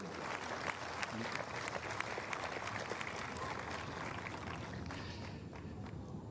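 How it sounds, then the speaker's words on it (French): A crowd applauds at a tennis tournament trophy ceremony in Strasbourg, a soft, diffuse wash of many hands clapping at a distance, steady and fairly faint under a broad background hum. "Il mérite d'être applaudi, je vous assure."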